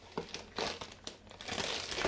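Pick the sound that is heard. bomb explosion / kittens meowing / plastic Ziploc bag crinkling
plastic Ziploc bag crinkling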